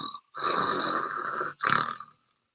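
A person imitates snoring with a voice, making two rasping snore-like breaths, a long one followed by a shorter one, loud and close with brief silences around them.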